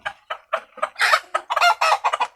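Several native village chickens cluck and squawk close by in quick, uneven bursts, some calls drawn out into louder cackles.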